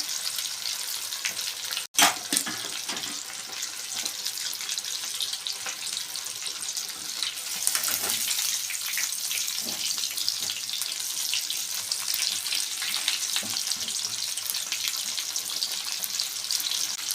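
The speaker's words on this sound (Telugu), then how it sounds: "దీన్ని బాగా కలర్ వచ్చినట్టు ఫ్రై చేసుకోవాలి" Food sizzles steadily in a frying pan while being browned, a constant crackling hiss with occasional stirring clatter and a sharp knock early on, with no talking.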